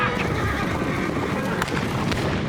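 Horses neigh and whinny in a frontier camp of a fur trapper amid hoofbeats, a loud chaotic herd sound with a voice talking over it.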